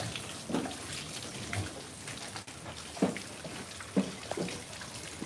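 Water splashes and drips in irregular bursts while goats are bathed outdoors on a hot day, a few louder splashes standing out over a steady wet background.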